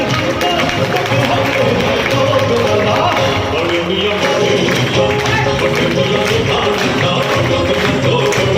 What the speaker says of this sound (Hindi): एक बार तालियां हो जाए जबरदस्त।